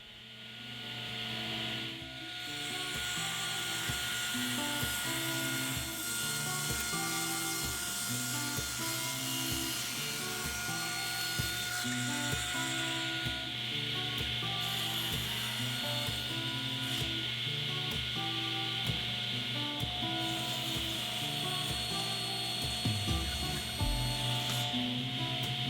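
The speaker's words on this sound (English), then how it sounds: "I'll start by cutting the parts to width and then resawing them to thickness." Power saw cutting wooden support feet to width and resawing them to thickness, a loud steady whine with shifting tones as the blade bites into the wood.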